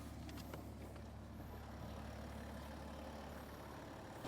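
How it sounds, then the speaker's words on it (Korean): A BMW X6 SUV idles with its radiator fan running, making a steady, quiet whirring hum throughout. "보시다시피 엔진에 시동을 걸면 이렇게 라디에이터가 동작이 되면서 역시 시끄럽네요"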